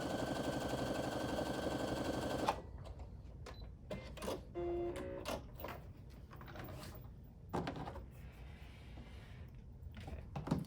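A sewing machine stitches quilt fabric pieces together in a steady running whir for a couple of seconds, then stops, giving way to intermittent clatter and fabric handling nearby.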